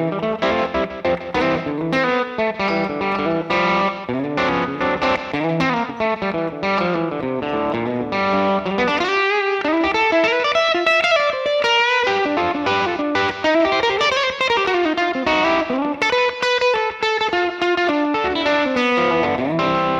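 An electric guitar with effects plays a busy line of hybrid-picked notes, open strings and double stops through slapback delay, dense and continuous with no voices.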